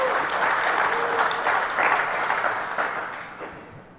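An audience at the DEFCON 20 awards applauds and cheers steadily for several seconds, a dense crowd sound that gradually tapers off.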